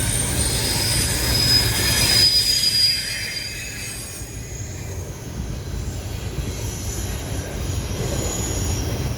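A long freight train rolls past at close range, its wheels setting up a sustained high metallic squeal over a continuous rumbling roar of rail cars.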